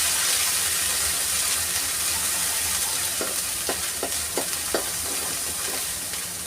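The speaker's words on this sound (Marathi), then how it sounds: "आता तेलावर छान आपल्याला वाटण असं परतून घ्यायचं आहे." Ground masala paste sautéing in hot oil for a green peas usal, a steady broad sizzle with a few soft clinks of stirring near the end, close and continuous.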